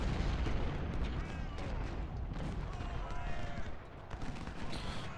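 Artillery cannon fire in the Ultimate General: Civil War strategy game, Battle of Chickamauga, a dense continuous rumble of booms and musket-like crackle throughout, with a voice speaking over the battle noise.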